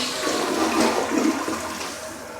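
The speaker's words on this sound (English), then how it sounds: "I'll give it the initial flush." A newly installed toilet flushes with a loud, steady rush of water that swells and then tapers off, heard up close with no voices.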